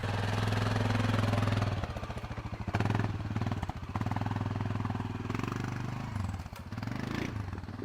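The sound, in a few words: four-wheeler ATV engine running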